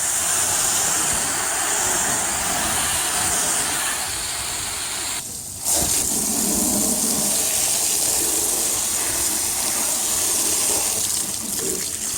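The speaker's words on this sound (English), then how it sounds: "Let's get a hose out here and see what we can find out" A steady, loud hiss of water spraying from a garden hose onto a car door runs nearly the whole time, briefly cutting out in the middle before resuming.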